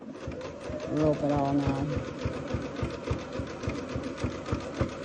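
A sewing machine zigzag-stitches jelly roll fabric rope into a rug, its needle thumping in a quick steady rhythm up close while someone talks over it.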